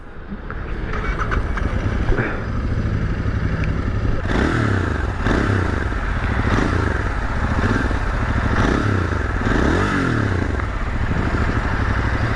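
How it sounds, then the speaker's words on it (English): A Royal Enfield Interceptor 650 motorcycle engine idles steadily, then revs up several times in repeated throttle blips, the stock exhaust loud and close throughout. "So let's hear the exhaust note of this bike."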